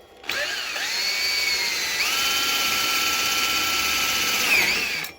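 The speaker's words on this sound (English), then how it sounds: "I'm just using a 10mm drill bit." A power drill with a 10mm bit whines steadily for about five seconds while drilling wood, a loud, close, high-pitched motor tone with slight pitch shifts as it bites.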